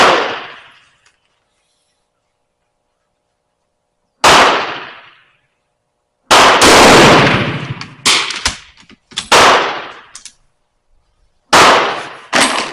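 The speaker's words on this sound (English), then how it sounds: "it is Turkish Mauser 50 yards with the Yugoslavian ammo" A Turkish Mauser rifle fires Yugoslavian ammunition at an outdoor range, five or six sharp, loud, close cracks spaced several seconds apart, each trailing off in a brief echo, with a couple of shots coming closer together.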